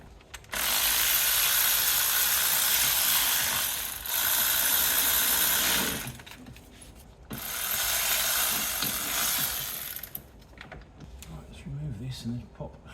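A ratchet wrench undoes the 13mm nuts on a mount of a Fiat Coupe, giving long bursts of dense, rapid clicking that stop and restart several times, followed by quieter handling noises near the end.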